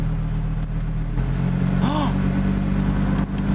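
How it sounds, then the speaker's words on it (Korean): Lamborghini Huracán EVO engine idling at a steady low rumble, with one brief rising rev partway through, heard from inside the car alongside a voice. "내리기 전에 시동 한 번만 걸고 내리죠 뭐."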